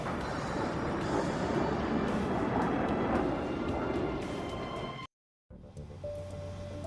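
Airplane engine roar in Ace Combat 7, a flight combat game, with a steady broadband drone for about five seconds, then a sudden brief cutout followed by quieter engine hum with a faint tone.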